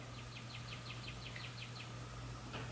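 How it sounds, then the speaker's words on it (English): Birds chirp outdoors in a quick, regular series of high tweets, faint and distant behind a steady low hum indoors, with one more chirp near the end. "The birds are singing."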